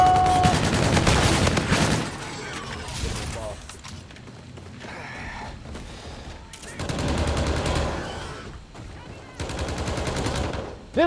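Rapid SMG gunfire in the video game Infinite Warfare, loud sustained bursts with mechanical clicks and quieter gaps between them.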